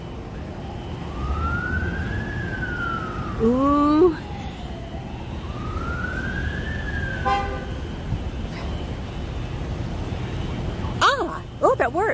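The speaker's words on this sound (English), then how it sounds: "It's the fire engine. They're stuck because they have the fire engine." A fire engine siren wails on a city street, rising and falling sweeps with sharp horn-like yelps between them, loud and close, over steady traffic noise and a brief exclamation from a passenger.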